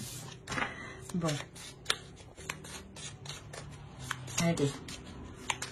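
Tarot cards being shuffled by hand, quick riffling bursts and soft slaps close to the microphone, with someone briefly talking between them.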